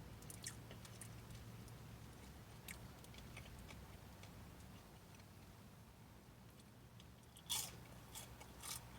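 Crispy Trader Joe's Taiwanese green onion pancake is bitten and chewed close up, with faint crunchy bites over a low background hum and one sharper crunch near the end.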